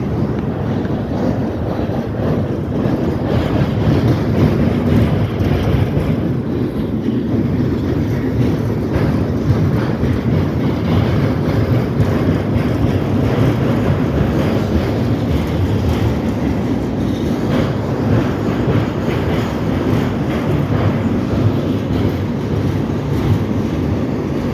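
A loud, continuous rolling roar of a very long CSX freight train passing close by on the Delair Bridge, steady rumble with wind buffeting the microphone.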